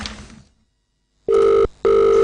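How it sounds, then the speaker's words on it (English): A telephone rings loudly and close by in two steady electronic bursts with a short gap between them, following a brief fade of background sound and a silent pause. "Olumide, why you dey answer the phone now?"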